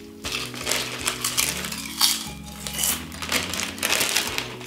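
Barbecue potato chips, Lay's or Auchan, are chewed close to the ear, giving a steady run of loud, dense crunching and crackling with no talk over it.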